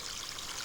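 A brief, steady trickle of water at the bottom of a rocky slope, a soft continuous babble with no voices.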